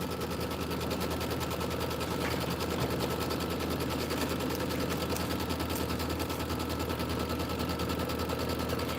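Sewing machine running steadily while stitching a placement line through batting and background fabric for a Kimberbell quilt tile, a continuous dense mechanical chatter that holds through the whole stretch.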